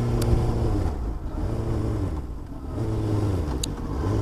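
A car speeds up on a road nearby, its engine note climbing in several rising sweeps over a steady rumble of road and wind noise.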